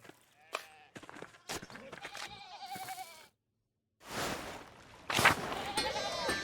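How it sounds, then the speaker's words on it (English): Sheep in the video game Pentiment bleat repeatedly in short, wavering cries, some close and some overlapping, with brief gaps and one silent pause between bursts. "the sheep are blocking my path."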